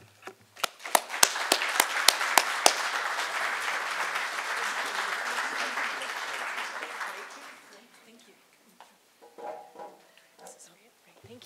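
An audience at a panel on the character and presidency of Gerald R. Ford breaks into loud applause that opens with a few sharp claps, builds into a full ovation, then fades to scattered clapping and a voice.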